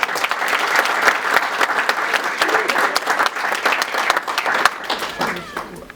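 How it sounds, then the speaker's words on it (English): Loud, dense applause from an audience at an ImCom talk, a steady wash of many hands clapping that thins out near the end, with some voices mixed in. "I think that is a round of applause."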